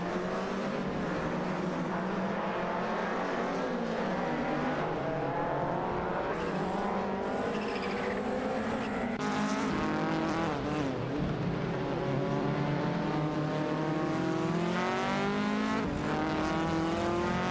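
Rally cars in a racing video game, a Lancia Delta HF Integrale and a Toyota Celica, with loud continuous engine drone, rising and falling revs through gear changes and passing whooshes, no talk.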